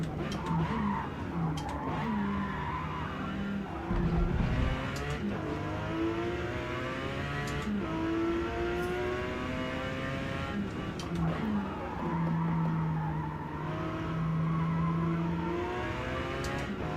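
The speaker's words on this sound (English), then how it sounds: "So they're braking about right there." Race cars in the Forza Motorsport racing game brake hard into a corner, tires skidding and squealing over droning engines, with a voice talking over the steady in-game racket.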